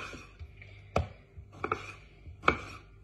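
A knife chops through a tomato on a cutting board while raw salad vegetables are prepared in a home kitchen, giving four or five sharp, separate knocks at an uneven pace with quiet gaps between them.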